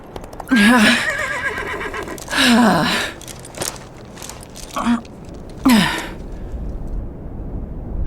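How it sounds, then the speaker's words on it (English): A horse whinnies several times, loud shrill neighs with shaky descending pitch, separated by snorts and quieter breathing. "And then I see another horse by the hotel."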